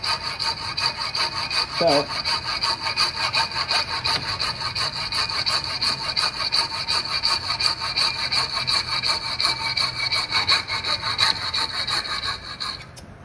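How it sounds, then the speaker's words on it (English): A hacksaw with a worn blade cuts metal with steady, rhythmic back-and-forth rasping strokes, close and continuous for several seconds, and a voice briefly speaks near the start. "I do believe this hacksaw blade probably needs replacement because that should have been much easier to cut"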